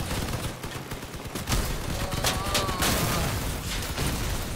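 Gunfire in the vehicle combat game Crossout comes as a series of close cracks and bursts over rumbling engines and clanking mechanisms, the shots bunching in the middle and toward the end.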